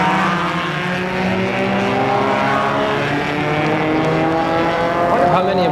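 A sports car drives along a parkway, its engine giving a loud, close, steady whine whose tones slowly shift in pitch, then sweep sharply at the end.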